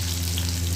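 Chopped onion sizzles steadily in a hot pan, a soft continuous frying hiss over a low hum, brief and unbroken with no voices.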